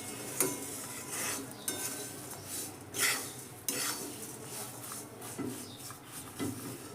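Flattened rice (chira) being stirred in a pan with the gas flame switched off, a dry rustling scrape broken by several louder clinks of the spoon against the pan, close and steady with no talking.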